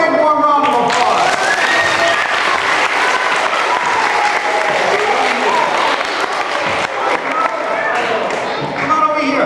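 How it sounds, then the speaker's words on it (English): Audience applause at a live book event, loud dense clapping from a crowd that fills the whole stretch with steady intensity, with some voices mixed in. "Give him a big warm round of applause."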